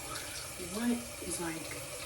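Hot water runs from a tap onto a towel, a steady splashing rush heard close by with a few brief louder swells.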